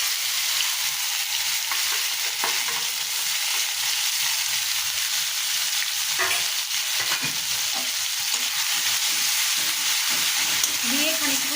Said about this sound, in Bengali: এবার ওই একই তেলে পেঁয়াজ, আদা রসুন, কাজু বাদামের পেস্টটা